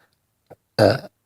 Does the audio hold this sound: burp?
yes